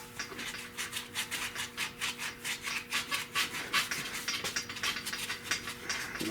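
Abrasive scuffing of a rusty rally wheel rim ahead of painting, a steady run of rapid back-and-forth rubbing strokes, close and fairly loud, with no talking.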